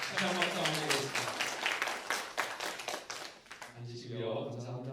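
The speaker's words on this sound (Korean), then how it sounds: "다시 한번 박수 한번 하겠습니다" A church congregation applauds, giving dense, steady clapping for several seconds that fades as a voice begins speaking.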